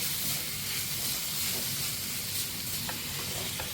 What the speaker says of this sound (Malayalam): തേങ്ങ നന്നായിട്ട് ഗോൾഡൻ കളറാകുന്ന വരെ നമുക്കിതൊന്ന് മൂപ്പിച്ചെടുക്കാം